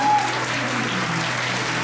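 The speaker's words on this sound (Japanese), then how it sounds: "大きな拍手を求めております" A short, dense burst of guests applauding at a wedding reception, loud and steady throughout.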